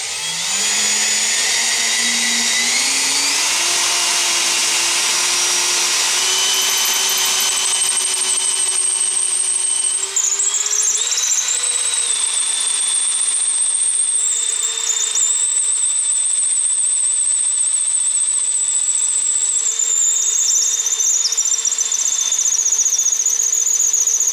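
A power drill spins a wooden pen blank during ballpoint pen making, giving a loud, steady whine that rises in pitch over the first seconds and then holds with small wavers, alone without talk.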